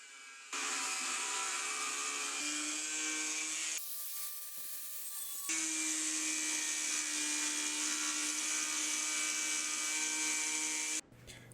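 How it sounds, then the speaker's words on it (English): An angle grinder cuts a steel file into a knife blank, giving a loud, steady high-pitched whine with a short drop in pitch midway before the cut resumes. "then I'm going to cut it to shape using an angle grinder"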